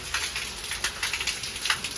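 Heavy rain pours down outdoors as a continuous broadband hiss, dotted with small pattering pops, steady and fairly loud with no talking.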